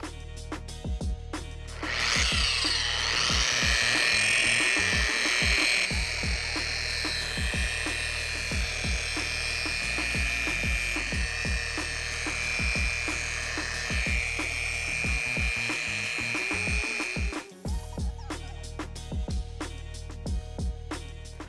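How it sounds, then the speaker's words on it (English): A power buffer whines at a high, steady pitch while buffing a painted car panel, running continuously for about fifteen seconds before cutting off, with clicks and light handling noise around it. "So now we're gonna buff the panel."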